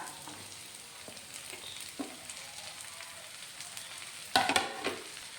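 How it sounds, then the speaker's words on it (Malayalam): Onions sizzle as they sauté in hot oil with ginger and garlic for a pork curry, a quiet, steady frying hiss with soft stirring scrapes and a louder burst of spatter near the end; no one speaks. "വെളുത്തുള്ളിയുടെയും ഇഞ്ചിയുടെയും പച്ചമണം മാറി വരുമ്പോൾ നമുക്കിതിലേക്ക് ബാക്കി വെച്ചിരിക്കുന്ന സവാള ചേർത്ത് കൊടുക്കാം"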